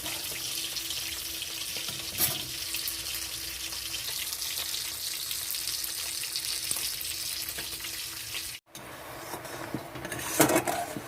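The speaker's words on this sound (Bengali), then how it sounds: "দুধটা খুব ভালোভাবে এরকমভাবে ফুটিয়ে নিতে হবে ফুটিয়ে শুকাতে হবে" Milk boiling and reducing in a pan on the stove for gujiya, a steady close bubbling and sizzling hiss that runs throughout, with brief stirring scrapes and no talk.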